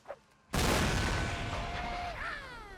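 Cannon artillery booms in a Civil War line-battle video game: one heavy, loud blast erupts after a quiet moment and rolls into a long, rumbling decay, with faint whistling tones trailing through it.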